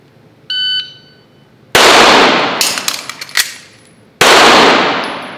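Shot timer beep followed by loud pistol shots after a tactical magazine reload, a single shot, a quick cluster of cracks, then one more shot, close and sharp with no talking.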